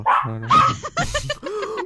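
A dog barks several times in the video game GTA 5, giving short yips and whimpering barks close up, with a little voice nearby.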